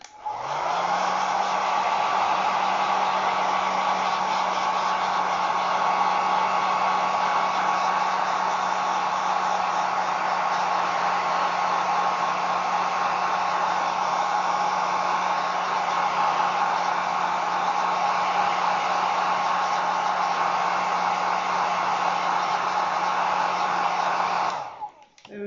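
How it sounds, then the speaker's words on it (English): A hairdryer blows over wet paint on a slate coaster, a loud, continuous whooshing hum with a steady low tone running unbroken for about 25 seconds, with no talk over it. "I'm going to just use the hairdryer, excuse the sound."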